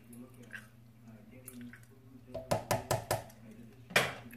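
Keto chicken tortilla soup is stirred in a pot: a run of four quick wet knocks and squelches from the spoon, then one more a moment later, over a quiet murmuring voice in the background.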